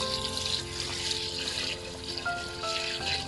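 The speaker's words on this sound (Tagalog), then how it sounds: "Lagyan natin ng tubig." Water pours steadily from a tap into a cooking pot for a Filipino pork knuckle stew with kadyos beans and jackfruit, a continuous close splashing and gurgling fill with no talk.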